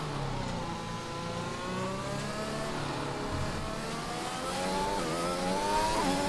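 An F1 car engine in a racing video game revs and accelerates through rising gear pulls, a steady mid-pitched whine climbing repeatedly over about six seconds, with no talking.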